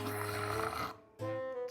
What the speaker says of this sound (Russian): Она храпит, как медведь.